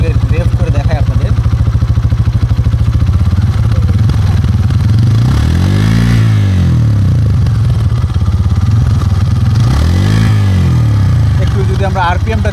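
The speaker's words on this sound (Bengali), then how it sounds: "সো আমি যদি এখন একটু থ্রোটলটা রেভ করে দেখাই আপনাদের" A Hero Xtreme 160R 4V motorcycle with dual-channel ABS idles with a loud, steady exhaust burble, then its throttle is blipped twice, each rev rising sharply and falling back to idle, close by.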